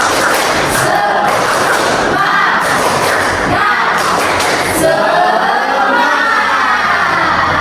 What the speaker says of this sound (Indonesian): Coba kita sama-sama semangat. Tepuk semangat.